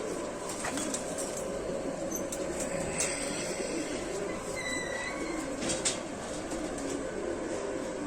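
Gulabsara pigeons cooing softly among faint ambient noise, low murmuring coos recurring across the stretch at moderate distance, with occasional brief higher chirps from other birds.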